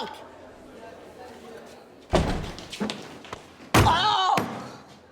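A door slams shut twice in an indoor school or home setting, two sharp loud bangs each followed by brief rattling, with people talking around them.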